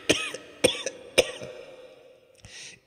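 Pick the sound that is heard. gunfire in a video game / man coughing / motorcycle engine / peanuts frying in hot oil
man coughing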